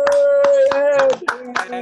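Participants on an online call clap over open lines, a handful of sharp, separate claps in an uneven rhythm over a sustained tone, with a voice briefly heard amid them.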